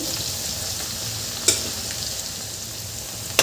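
Onion fries in a pan with a constant close hiss, broken by two sharp utensil taps.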